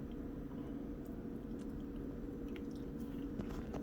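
Someone chews salmon cheek meat pulled off the bone, soft faint mouth sounds close by with no talking.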